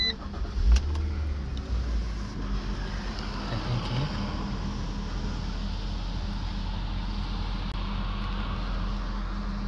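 A car engine starts near the beginning with a short crank and catch, then settles into a steady low idle that runs quietly and continuously without talk.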